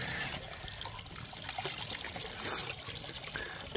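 Ice-cold mountain spring water in the Dolomites trickles and splashes steadily, close and fairly loud, a continuous bright pouring wash with a brief surge midway and no talk.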